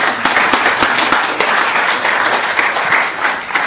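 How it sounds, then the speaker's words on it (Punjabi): Loud sustained clapping from an audience at an art exhibition, steady and dense throughout with a few sharper individual claps standing out near the front. "ਜ਼ੋਰਦਾਰ ਤਾੜੀਆਂ"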